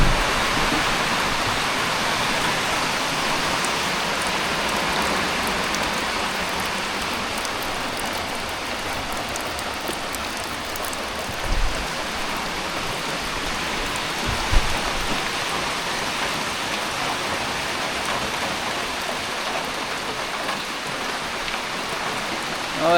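Pouring rain sends water streaming off a barn roof, a dense, steady roar of falling and splashing water that holds constant throughout, close and loud, with no talking.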